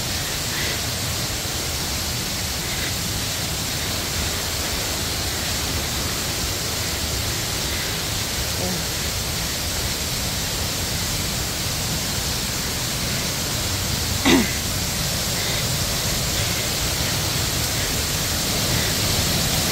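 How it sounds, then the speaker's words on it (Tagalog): Hulugan Falls pours with strong, heavy flow, a dense constant roar of rushing water filling the air without pause, one brief tap near the end. "Ayan guys, ang Hulugan Falls."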